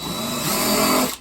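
A cordless drill countersinking a screw hole, its steady motor whine running continuously and close for about a second before cutting off.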